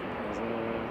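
A KLM airliner at Manchester Airport, a steady broad engine roar at moderate distance under a live-stream commentator's voice.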